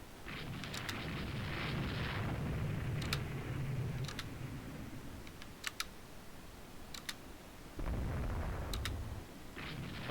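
Warship broadside gunfire in the naval strategy game Rule the Waves 2, a series of sharp, separate reports spaced a second or more apart over a steady low rumble, with brief pauses between volleys.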